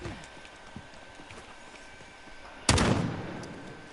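A single loud shotgun blast in Call of Duty Modern Warfare cracks out suddenly after several seconds of faint ambient noise and scattered small clicks, its boom decaying over the following second.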